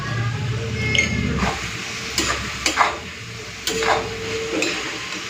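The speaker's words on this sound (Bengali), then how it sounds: "চলুন এই তেলেই আমি আলুটা ভেজে নেব" Potato pieces fry in hot oil, with a continuous sizzle and a few sharp scrapes and clinks as they are stirred in the pan.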